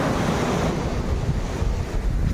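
Sea waves wash and roll onto a Konkan beach, a steady close roar of surf with heavy wind buffeting the microphone and no voices.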